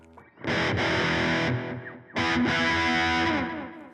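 Distorted electric guitar plays two sustained, overdriven phrases with echoing repeats trailing after each, loud and close, with no voices.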